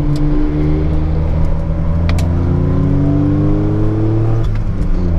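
Several fast car engines roar and rev at high speed close by on the Nürburgring Nordschleife race track, with rising and falling engine tones as cars overtake a DeLorean.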